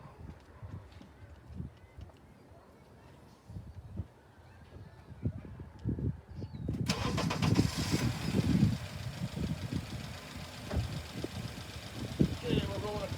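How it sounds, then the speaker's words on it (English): A Honda car engine cranks and catches partway through, then settles into a steady idle with a rough mechanical rumble, nearby and moderately loud, after a quieter stretch of small handling noises. "Open this and start the car"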